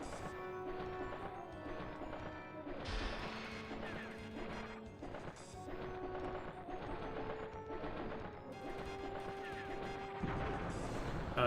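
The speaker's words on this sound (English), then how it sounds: "Fire breath." A fire breath attack in the PS1 game Alundra, heard as a string of sharp crashing hits and bursts over tonal game music, several impacts spaced irregularly across the stretch.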